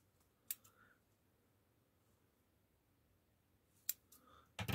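Scissors cutting a single strand of crochet yarn while a baby vest is being made, two faint crisp snips a few seconds apart in a quiet room, followed by handling noise.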